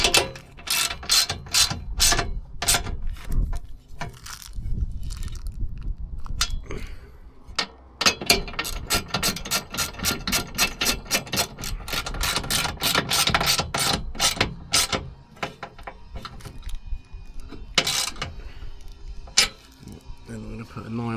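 Nut being tightened on a homemade gas bottle roof rack bracket for a Front Runner rack, with rapid clicking ratchet strokes in bursts, close and fairly loud, under occasional talk.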